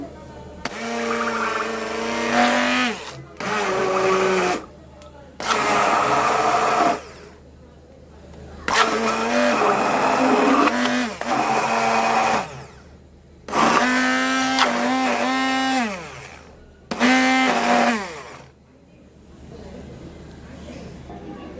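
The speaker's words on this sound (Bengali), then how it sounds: "এখন হ্যান্ড ব্লেন্ডারে ব্লেন্ড করে নেব" A hand blender whirs in repeated on-off bursts of several seconds each while blending homemade mayonnaise made with boiled egg, with short quiet gaps between the runs.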